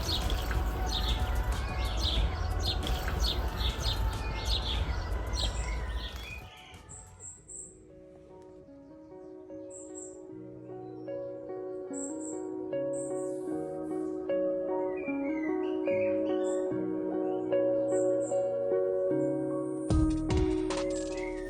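Birds chirp with scattered short tweets and calls in a small summer flower garden with lavender and alliums, first over a busy rustling background, then more clearly in a quieter setting.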